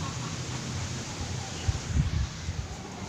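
Strong, cold wind blowing outdoors: a steady broadband rush with low buffeting gusts and rumbles hitting the microphone, heard close and fairly loud.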